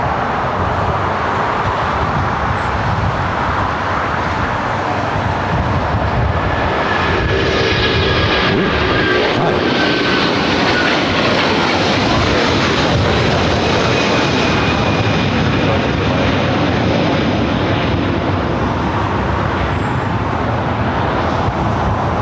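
An older China Southern Airbus A330 jet roars past at LAX, a loud, sustained engine rumble and whine that swells and fades over twenty seconds with distant traffic noise beneath.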